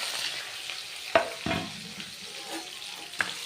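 Onion and coriander are stirred with ginger-garlic paste in a frying pan, giving a soft continuous sizzle broken by a few sharp scrapes and clinks of the spoon against the pan.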